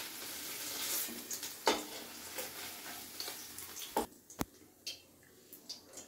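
Potatoes and paneer frying in a pan, a steady close sizzle with scattered stirring clicks and scrapes, a few sharper knocks, quieter toward the end.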